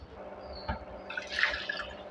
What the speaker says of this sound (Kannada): ಇವಾಗ ಜಾರ್ ತೊಳೆದು ನೀರು ಹಾಕ್ತಾಯಿದ್ದೀನಿ.